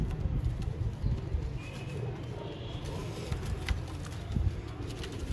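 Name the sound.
domestic pigeons of a home breed cooing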